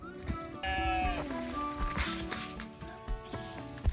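Sheep bleat repeatedly on a homestead where rams and ewes are kept, several wavering calls overlapping at moderate distance amid light shuffling and farmyard noise.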